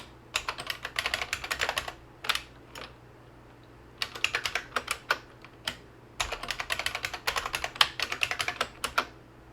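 A password is typed on a computer keyboard in quick runs of crisp key clicks, separated by short pauses, close and clear against a faint steady hum.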